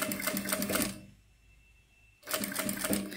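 A sewing machine stitches piping onto synthetic material in two loud, rapid bursts of needle chatter separated by a quiet pause of about a second, heard close up with no talk.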